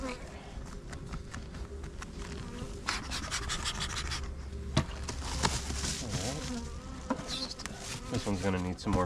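Honeybees humming around hives in a bee yard being built up for almond pollination, a steady close buzz with passing individual bees, while someone talks and equipment handling noises come and go.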